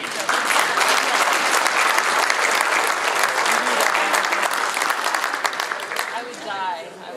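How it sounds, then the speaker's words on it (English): A banquet audience applauds steadily for several seconds, a dense, loud wash of clapping that fades slightly near the end as a few indistinct voices come through. "A big round of applause for the Heinens."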